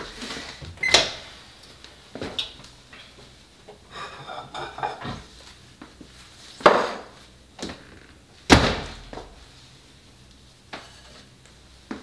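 Kitchen microwave in use: a few sharp clattery clicks and thunks spaced across a quiet room, like a door latch releasing and the door swinging open, with no clear tonal beeps standing out.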